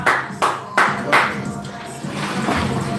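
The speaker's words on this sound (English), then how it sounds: "Hey, a big round of applause for Albie." At a live comedy club show, a few sharp, separate handclaps ring out near the start for a comedian taking the stage, then fade into a low murmuring room.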